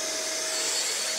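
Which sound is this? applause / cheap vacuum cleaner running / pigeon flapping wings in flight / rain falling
cheap vacuum cleaner running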